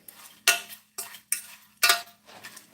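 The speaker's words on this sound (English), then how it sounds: "Just stir that up." A spoon stirring food in a pot on a home kitchen counter, making five or six sharp clattering scrapes against the metal in uneven bursts with short quiet gaps, close and fairly loud, with no talking.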